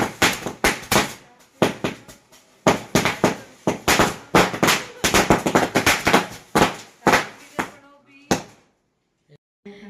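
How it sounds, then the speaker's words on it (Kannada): A string of firecrackers bursts in front of a house during a birthday celebration, a rapid irregular volley of loud sharp cracks for several seconds that thins out and stops near the end. "ಫ್ರೆಂಡ್ಸ್ ಎಲ್ಲ ಸರ ಪಟಾಕಿ ಹೊಡೆದು ಸೆಲೆಬ್ರೇಟ್ ಮಾಡ್ತಾ ಇದ್ದಾರೆ ಸಿಂಪಲ್ ಆಗಿ ಮನೆ ಮುಂದೆನೆ"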